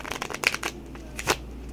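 A deck of playing cards being riffle shuffled close up, a quick run of fluttering card flicks followed by a sharp snap as the halves bridge together, fairly quiet.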